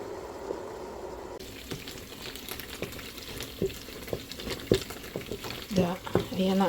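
Coconut latik frying in a pan while being stirred, a soft sizzle broken by repeated scraping and clinking strokes that grow busier toward the end, with faint voices in the background.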